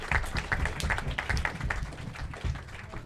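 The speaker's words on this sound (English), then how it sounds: "Let's give yourselves a clap here." Audience members at a congressional candidate forum clap in a thin, scattered round of applause, with individual claps distinct and fairly close in a moderately sized room.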